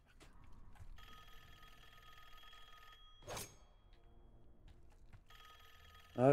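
A phone rings repeatedly in the Call of Duty Black Ops 6 Zombies video game, an electronic bell trilling in steady bursts over quiet game ambience, with a sharp louder sound at the end.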